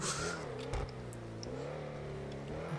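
A Range Rover engine hums and revs steadily with a low, rising drone while off-roading on rough ground. The sound is fairly faint and continuous, with no talk over it.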